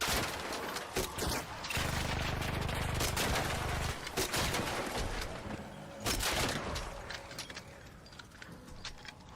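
Gunfire in the video game ARC Raiders, with loud bursts of rapid automatic shots and scattered single reports filling the whole stretch, rising and falling in dense volleys.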